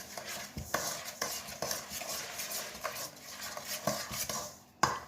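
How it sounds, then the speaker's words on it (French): A spoon stirs and scrapes through frangipane filling ingredients for a galette des rois, giving soft, steady, rhythmic mixing strokes with light clinks against the bowl, close but fairly quiet. "maintenant on va tout mélanger à l'aide de la cuillère"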